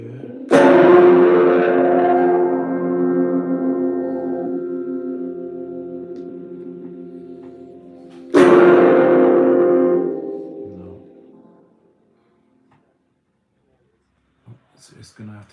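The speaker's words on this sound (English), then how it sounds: "It's gonna have to be Fender Spring Reverb" Two strummed electric guitar chords ring out through a Fender spring reverb effect, each attacking loudly, then decaying slowly with a lingering wash before fading to near silence.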